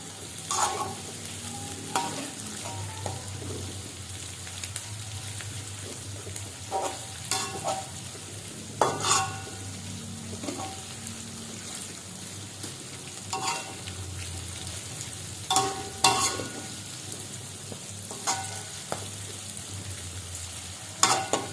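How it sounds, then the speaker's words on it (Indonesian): Chilies sautéing in a pan for chicken soup, with a steady low sizzle broken by scraping stirs and clanks of a utensil at irregular intervals, close up and without talk. "cabainya kita tumis sampai cukup layu ya teman-teman"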